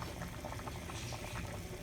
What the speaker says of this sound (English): So now it starts boiling.